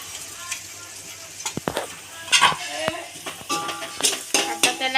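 Spoon stirring a thick pav bhaji vegetable mash in a pan as it sizzles, with irregular scraping and clinking strokes against the metal over a low frying hiss, near and moderately loud.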